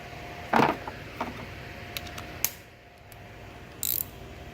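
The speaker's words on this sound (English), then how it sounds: "Tighten down my positive battery terminal" A positive battery terminal on a Chevrolet Cruze being tightened down, a few scattered short metallic clicks and ratcheting ticks, close and fairly quiet, with brief pauses between them and no talking.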